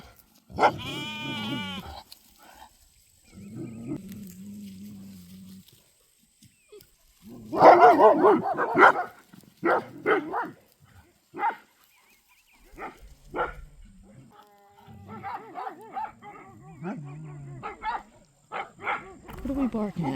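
A stray German Shepherd barks outdoors at a guardian-dog farm, with short barking bursts and bleating livestock mixed among conversation.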